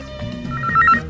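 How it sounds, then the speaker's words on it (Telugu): A telephone rings at home, with short repeated electronic chirps standing out near the end over a soft background. "అమ్మా, రింగ్ అవుతోంది."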